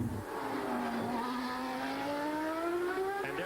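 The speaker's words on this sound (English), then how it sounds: "You see the Ferrari of Nigel Mansell now rolling onto pit road." A 1989 Ferrari Formula 1 car with a problem rolls onto pit road at the US Grand Prix, its high engine note sliding steadily and droning throughout, loud and continuous with no talk.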